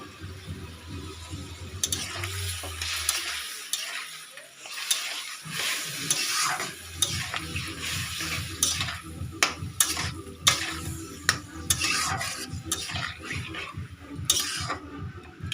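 Stew-cut chicken pieces hit a pan that already holds a little water, then scrape and stir amid steady sizzling and frying, with pan clatter and fluctuating bubbling throughout, fairly close and with no voices.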